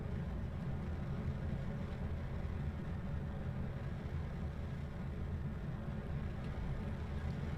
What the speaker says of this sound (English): we keep having the engine sounds only on the right side